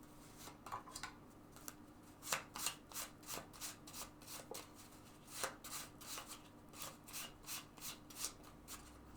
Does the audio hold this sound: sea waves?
no